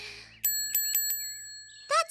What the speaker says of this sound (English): That's the original bell ring.